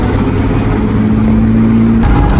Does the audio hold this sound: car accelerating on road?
yes